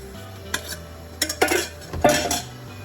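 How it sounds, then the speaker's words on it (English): Afang leaves dropped into a cooking pot for Afang soup, with a few short rustling thumps and metallic clatters of a utensil against the pot, close and moderately loud, no voices. "So I'm adding the Afang leaf."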